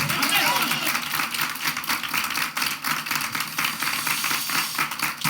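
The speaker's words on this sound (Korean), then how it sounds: "이제요 우리의 살아계신 우리 하나님께 박수로 영광 돌리겠습니다." Church congregation clapping to glorify God during a Sunday morning service, rhythmic group clapping with crowd voices mixed in, fairly loud and continuous.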